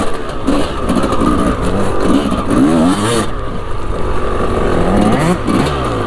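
Kawasaki enduro motorcycle engine warming up, a steady idling drone with rising and falling revs throughout, fairly loud and close with no talking.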